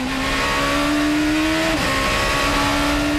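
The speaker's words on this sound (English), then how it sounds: "As you hear that Mecha Chrome engine underneath the FMS car on this lap 15 to defend his position." Mecachrome engine of a GP2 race car at the 2008 Spanish round, a loud sustained high-pitched drone with a slight pitch rise and a quick shift, heard over broadcast crowd and track ambience.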